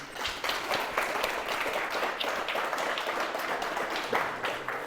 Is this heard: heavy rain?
no